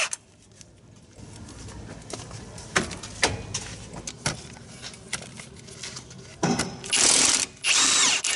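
A power tool works bottom strut bolts loose on a Toyota Corolla during a rear strut change, with short bursts and rattling impacts between quieter gaps, growing louder in sustained whirring runs near the end.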